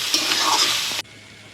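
Chow mein hisses and crackles loudly in a hot oiled wok as it is stirred, a dense steady sizzle lasting about a second before cutting off sharply.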